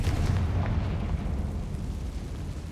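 A Confringo fire spell explodes inside an abandoned mine in Hogwarts Legacy, a deep rumbling blast that rolls on as a heavy, slowly fading low roar and debris crackle.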